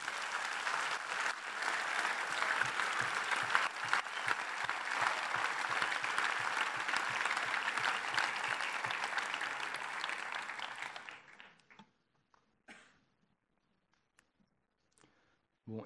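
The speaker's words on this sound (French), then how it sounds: "Wassim, sous un tonnerre d'applaudissements" Thunderous audience applause greets a speaker stepping up at the Paris Bar's comic oral contest, a dense sustained clapping that fades out near the end into scattered faint claps and room noise.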